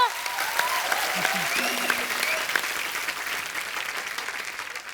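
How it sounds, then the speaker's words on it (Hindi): Studio audience at a comedy talk show breaking into loud applause, a sustained wash of clapping with a few voices and whoops on top. "चलो अभी फिरंगी के लिए जोरदार तालियां बजा दो"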